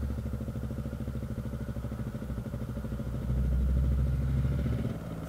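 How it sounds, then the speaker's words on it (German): Motorcycle engine idling steadily while riding slowly through busy Dolomites mountain-pass traffic, a close, continuous low throbbing burble that swells slightly louder toward the end. "Ich fahre im Standgas durch die Gegend."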